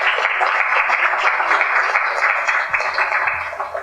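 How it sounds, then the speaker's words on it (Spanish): Audience applause for a doctor at a book presentation, a continuous band of clapping with a slightly muffled, radio-like tone, sustained evenly throughout. "Aplausos para el doctor"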